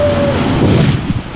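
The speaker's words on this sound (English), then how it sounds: "There's a waterfall!" A waterfall on a water ride at Typhoon Lagoon water park makes a loud, close, broadband rush of pouring water mixed with wind buffeting, heard only briefly.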